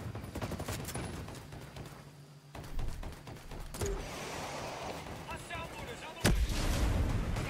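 Gunfire in the tactical shooter Ghost Recon Breakpoint, a run of loud close shots and bursts with a heavy blast near the end, under game ambience with some voices.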